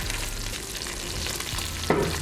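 Bacon frying in a pot for catfish stew, fat rendering with a steady close sizzle and a brief louder scrape or stir near the end, no talking.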